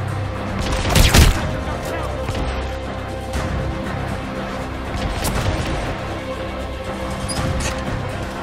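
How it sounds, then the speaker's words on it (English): Enemy gunfire in the video game Hitman: Absolution: a sharp, loud burst of shots early on, then a dense, noisy barrage of distant fire and crashes running steadily throughout. "Use cover to protect yourself from enemy fire"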